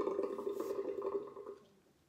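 Water splashes and trickles close by as a face cloth is rinsed out, a short run of wet dripping and swishing that fades away.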